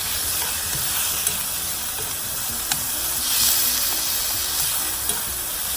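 Peppers and mushroom sauce stir-fry in a hot pan, a constant bright sizzle and hiss with occasional faint clinks of stirring, close and steady with no talking.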